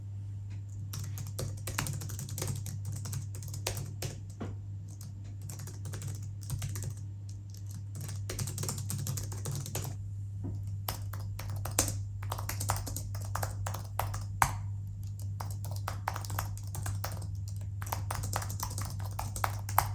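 Typing on a Logitech MX Keys and an Apple Magic Keyboard produces a steady run of soft, quick key taps with occasional louder strikes, close up over a constant low electrical hum and no talking.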